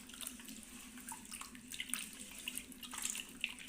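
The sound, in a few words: washing mutton intestines in water with turmeric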